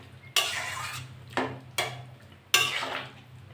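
A spoon scrapes and clanks against a cooking pot of pumpkin stems, potato, eggplant and pointed gourd in four separate strokes, each a sharp metallic scrape fading out, over a low steady hum.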